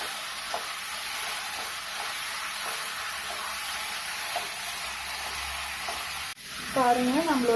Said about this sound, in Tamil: இதே மாதிரி கிளறிக்கிட்டே இருங்க